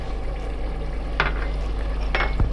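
Chilli stirred into softened tomatoes frying in a pot for chicken achar gosht: a low steady sizzle broken by a couple of quick spoon scrapes and a tap against the pot, close and fairly quiet.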